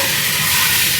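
Pad thai noodles with vegetables frying in a hot pan at a food park stall: a loud, steady, close sizzle and hiss that continues without a break, with no voices.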